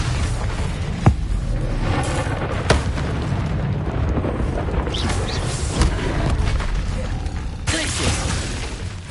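Magic spell blasts and explosive booms fire repeatedly in the Hogwarts Legacy video game on PS5, with sharp impact bursts at irregular intervals over a dense, continuous low rumble of combat noise.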